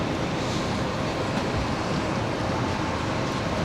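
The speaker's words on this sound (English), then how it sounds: "The ocean looks very, very rough right now." Rough sea surf pounding ahead of Typhoon Fengshen on the coast at Da Nang, Vietnam: a steady, dense roar of breaking waves with gusty wind noise, loud and continuous throughout with no voices.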